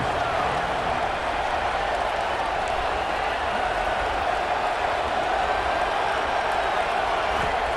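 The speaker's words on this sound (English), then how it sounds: "The Red Raider crowd rising to the occasion to help its defense on 3rd down." Stadium crowd in College Football 26 roaring on third down, a steady broad wash of cheering and noise that stays level and loud throughout.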